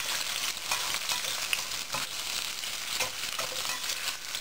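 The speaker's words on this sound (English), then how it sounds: "Nice hot flame, nice hot wok. Sauteing for a while, now checking them now. Fry that up nicely." Garlic frying over a hot flame in a wok, a steady bright sizzle with occasional soft stirring clicks, close and continuous with no talk.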